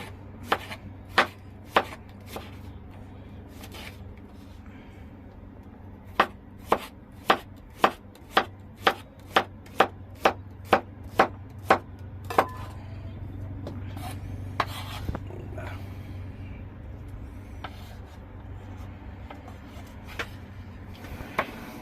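A knife cuts thin slices of fish for kilawin on a board, making sharp crisp knocks, at first spaced out and then in a quick even run, close and clear with no speech.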